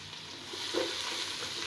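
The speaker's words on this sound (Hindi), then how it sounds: "ये प्याज हम इसमें डाल देंगे।" Sliced, hand-mashed onions frying in hot oil for egg yakhni pulao: a steady, soft sizzle with a faint crackle, continuous and fairly quiet, with no talking.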